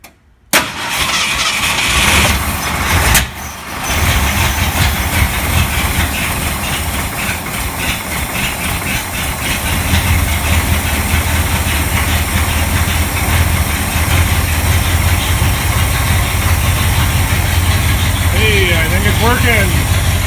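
A 1975 Ford F150 pickup engine cranks, catches and settles into a loud, steady idle up close, with a voice briefly heard over it.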